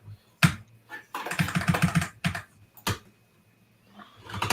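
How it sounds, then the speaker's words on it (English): Computer keyboard typing during a live online tech chat, irregular bursts of clacking keystrokes, close and fairly loud, with short pauses between flurries and no talking. "Sorry about the keyboard sounds."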